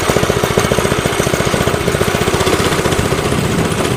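Baja Dirt Bug small engine under 2 horsepower running close by, a loud rapid putter of regular firing pulses at a steady pace throughout.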